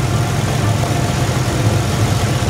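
A car engine, one of a collection started in spring after a snowy winter, idles steadily after starting, with a close, continuous low rumble and no voices.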